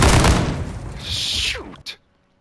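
A light machine gun fires a loud, rapid burst in Call of Duty MW2, then cuts off with a clattering tail and a final sharp crack before silence.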